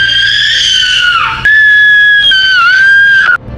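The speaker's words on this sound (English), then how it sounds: "She screeched at Aziza in a language she couldn't comprehe" A mermaid's screech used as a sound effect in a folktale narration: a loud, shrill, wavering cry in two long bursts separated by a brief break, standing alone without talk.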